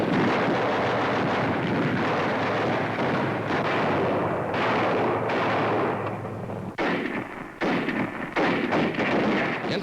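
Heavy artillery firing in a 1944 wartime newsreel, a dense, loud, rumbling barrage of booms and blasts with sharp cracks layered throughout and a noisy, dated recording character.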